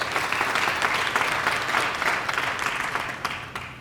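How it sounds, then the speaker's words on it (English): Sustained applause from a summit audience for a series of speakers, dense and even clapping from many hands that carries on for several seconds before tapering slightly at the end. "give applause for all the last speakers"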